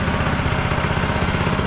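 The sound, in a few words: go-kart engine built from a Yeti ice chest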